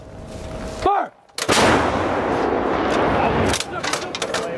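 A U.S. Marines artillery gun fires in a live-fire exercise, one huge close blast followed by a long rolling roar and rumble, with shouted voices before and after.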